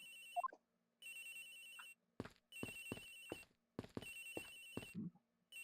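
Repeated electronic phone ringtone from Agent Hicks' phone in the video game Miles Edgeworth Investigations, sounding in several steady bursts with short gaps and brief game sound effects between them.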